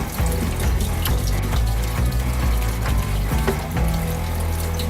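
Tap water runs into a sink while a makeup brush is scrubbed with a brush-cleaning tool, a loud, close, continuous splashing flow with rough rubbing and knocking layered through it, no voice.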